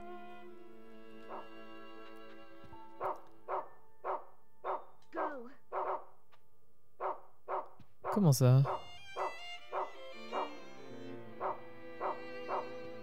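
Dog barks in the video game Rule of Rose, a long series of evenly spaced, clear single woofs with a whimpering yelp in the middle, heard alongside a brief spoken question.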